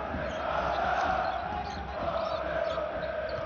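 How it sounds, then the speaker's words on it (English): A packed basketball arena crowd roaring during a Panathinaikos versus CSKA game, a continuous loud wash of cheering and noise that holds steady throughout. "It is deafening in this arena right now."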